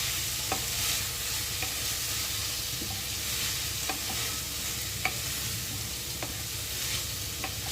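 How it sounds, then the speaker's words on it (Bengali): Spices being fried in a little oil and stirred into vegetables in a wok, giving a continuous sizzle with regular scraping taps of the spatula, steady and close. "আর 1 চামচ তেল দিয়ে ভালোভাবে মশলাটা ভেজে নিচ্ছি। নিয়ে এর সাথে মিশিয়ে দিচ্ছি।"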